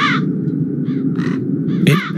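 Several crows caw in the Dark Eye: Chains of Satinav video game, harsh repeated calls over a steady low background rumble, with a louder final caw near the end.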